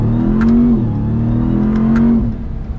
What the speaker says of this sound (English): We are going to be getting our acceleration here with the TRX